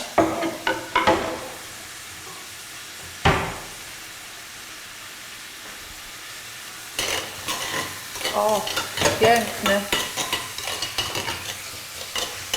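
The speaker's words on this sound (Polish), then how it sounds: "smażyła naleśniki" Pancakes frying in a pan during a Mexican-style pancake cooking workshop, a steady soft sizzle broken by scrapes and clinks of utensils, growing busier and louder in the second half with repeated stirring and tapping sounds.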